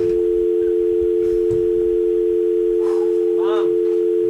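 Steady telephone dial tone during a call, a loud continuous pure hum with faint background voices and a few brief chirpy sounds near the end.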